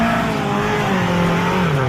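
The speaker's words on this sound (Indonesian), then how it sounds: "Ternyata mobil off-road." A toy off-road jeep gives a loud, close, steady engine-revving whine, its buzzing tone sliding slightly up and down without a break and with no voices.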